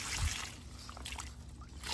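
Water trickling and draining out of a bucket holding a garden plant, a soft faint dribble with a few small splashes at the start, heard close and alone.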